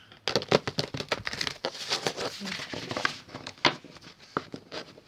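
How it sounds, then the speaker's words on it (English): Tarot cards are shuffled noisily up close: rapid crisp flutters and slaps in quick irregular bursts, with no talking. "I'm going to shuffle."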